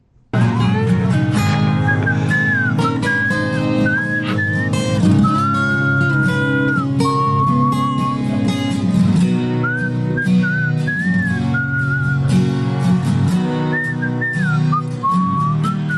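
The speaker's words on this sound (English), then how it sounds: "Good whistling." Melodic whistling carries a tune over a backing song with steady music throughout, the whistle bright and prominent.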